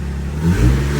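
A Lexus IS300 engine revs up close, a deep rising drone that swells and holds for about a second.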